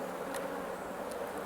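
Honey bees hum steadily at an open hive during a late-July colony inspection, a continuous moderate drone with no pauses across the short stretch.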